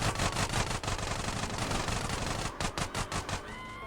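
Rapid gunfire in the video game GTA San Andreas, a dense rattling burst of repeated shots filling the stretch, loud and close, with brief gaps near the end.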